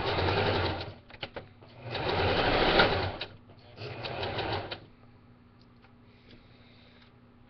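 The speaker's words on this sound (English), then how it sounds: "Did my sewing machine mess up?" A home sewing machine stitches doll bedding in bursts of rapid, steady whirring, stopping and starting three times at close range before going quiet with faint clicks.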